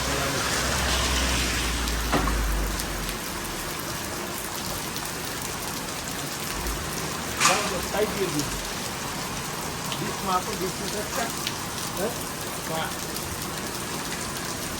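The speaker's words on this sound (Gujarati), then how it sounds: "ફૂલ વરસાદ પડે છે એટલે આવો વરસાદ છે બોડેલીમાં" Heavy monsoon rain in Bodeli, Gujarat, hammers down in a steady, dense roar, with occasional louder splashes and brief voices faintly audible beneath it.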